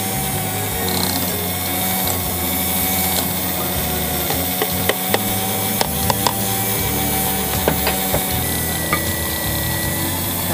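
A kitchen electric mixer whirs continuously at its lowest speed while beating batter as warm milk is added, a steady motor drone with faint clicks and knocks from the beaters against the bowl.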